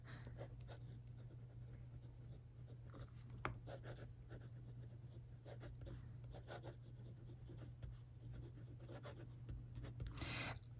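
A fine-nib fountain pen scratches softly across paper in short, irregular strokes, faint and close, over a low steady hum.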